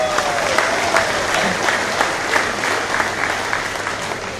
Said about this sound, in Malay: Kita beri tepukan semua.